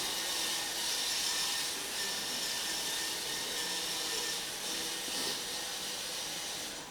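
A crossrc EMO JT4 off-road RC truck runs flat out in its low gear on a floor, giving a steady, loud, hissing electric motor whine that holds for the whole stretch with no talking.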